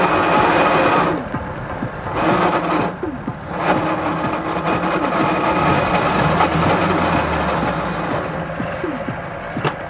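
A car with a manual gearbox run without oil, rolling in neutral, gives a steady loud mechanical whine and rattle with engine drone, continuous throughout with brief dips in the upper hiss.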